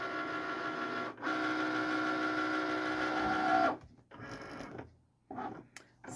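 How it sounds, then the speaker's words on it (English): A Cricut cutting machine scans registration marks on cardstock, giving a steady loud motor whir for several seconds before stopping, followed by shorter bursts of mechanical movement and quiet gaps. "So Cricut is looking for the registration marks."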